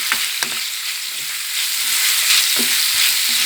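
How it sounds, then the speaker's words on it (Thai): Pork belly in red curry paste is stir-fried with long beans and shredded kaffir lime leaves, giving a steady, close sizzle broken by scraping and clacking strokes of the spatula in the pan, with no talk. "แล้วก็ผัดให้เข้ากัน"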